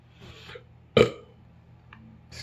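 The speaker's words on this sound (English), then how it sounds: "I feel a burp coming on." A single loud, throaty burp erupts after a brief quiet stretch, with only faint background murmur before it and a small trailing sound afterward.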